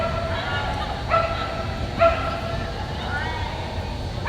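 Cavalier King Charles Spaniel barking on an agility course at the UKI US Open, giving a few short yips spaced about a second apart over steady crowd babble and an announcer's voice.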